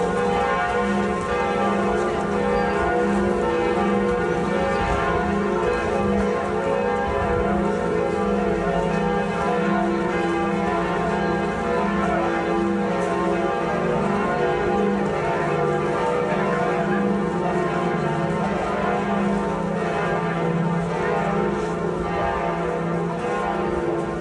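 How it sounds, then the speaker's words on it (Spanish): Church bells of Notre-Dame Cathedral in Paris ring out in a steady, repeated peal, rich tolling tones overlapping and sustained loudly without pause. "en honor al Papa Francisco, las campanas de la Catedral de Notre Dame en París sonaron 88 veces"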